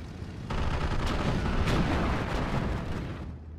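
Artillery and gunfire in Steel Division 2 shelling a sniper squad, a dense continuous barrage of booming blasts and crackling shots with heavy low rumble, loud and sustained before easing off at the end.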